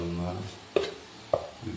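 Spice powders roasting in a pan for sardine curry, a low sizzle with two sharp clinks of a utensil against the pan, brief and close.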